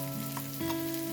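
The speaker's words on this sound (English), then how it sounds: "after frying it for about 1 to 2 minutes" Food sizzles and crackles steadily in a hot pan, a close, continuous frying hiss with a brief stir partway through, as ground chicken is added for a Nigerian meat pie filling.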